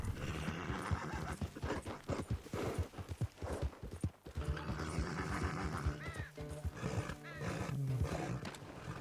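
Horse riding in Red Dead Redemption 2: loud, busy clip-clop of hooves at a steady gallop with occasional whinnies and snorts, continuing throughout with no speech.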